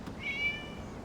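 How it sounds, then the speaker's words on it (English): A single short cat meow in the video game Genshin Impact, thin and rising, heard over a quiet background hum. "It was just a cat."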